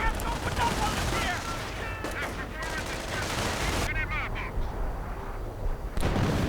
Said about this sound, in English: Artillery called in.